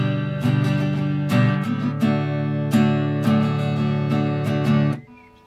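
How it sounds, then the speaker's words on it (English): Acoustic guitar strumming the chords of a song in a steady down-down-down-up pattern, close and clear for about five seconds before the strings are muted. "Now the strumming pattern, it sounds a bit like this."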